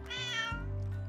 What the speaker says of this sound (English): That's the cat.